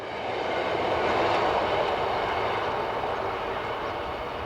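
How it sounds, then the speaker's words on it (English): An ÖBB class 1042.5 electric locomotive passes by on the Austrian railway, a steady broad rushing rumble of the train that swells slightly and holds for several seconds with no voices. "Here the loco is seen passing Nicklersdorf."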